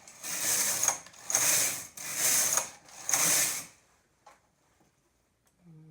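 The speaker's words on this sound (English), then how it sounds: "And then I'll bring the 1st and 3rd needles to upper work position and knit." A knitting machine carriage sweeps back and forth across the needle bed, four loud mechanical rattling passes about a second each, then near silence with a few faint clicks.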